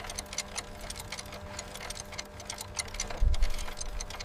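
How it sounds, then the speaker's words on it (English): Several clocks tick in a steady, even rhythm at low volume, with a soft thump near the end. "The heartbeat of an empire in ticking clocks."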